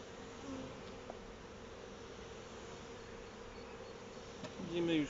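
Dense, continuous buzzing of honeybees at a beehive, a steady close swarm hum throughout, with a brief louder buzz of a bee passing near at the end.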